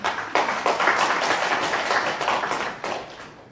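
An audience at an e-learning conference presentation breaks into applause, a dense wash of many hands clapping that holds steady before tapering slightly, with no speech over it.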